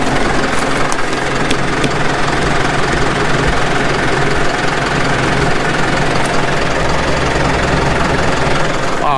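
A tractor engine with a ripper attached runs steadily and loud throughout, a dense low rumble with a knocking, idling character that never lets up.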